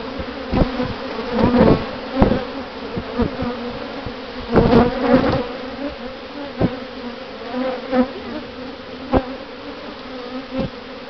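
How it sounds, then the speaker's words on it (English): Bees hum in a steady drone, close by, broken by repeated knocks and thumps at irregular intervals as a swarm is dropped into a bucket. "A big chunk of bees."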